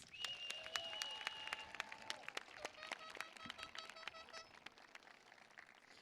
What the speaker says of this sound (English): Let's give Fed a round of applause.